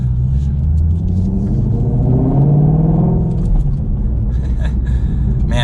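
A 2020 Shelby GT350 V8 rumbles loudly and steadily from inside the car, its deep drone rising and falling, with a few faint crackles near the end.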